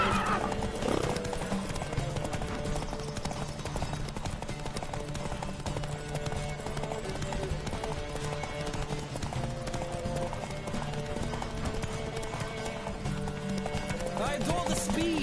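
Horses gallop in a race in The Witcher 3, with continuous rapid hoofbeats and repeated whinnies over a steady game soundscape that lasts the whole stretch.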